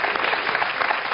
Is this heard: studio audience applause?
yes